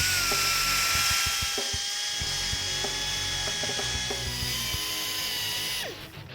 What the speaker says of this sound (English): Now using the grinder and the stone, I'm going to chamfer the holes in the valley so the oil has a nice smooth passage back to the pan.